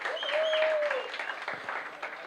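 Audience applause at a municipal public accountability hearing in Vegachí, moderately loud, with a brief whistle rising above the clapping and a few voices mixed in.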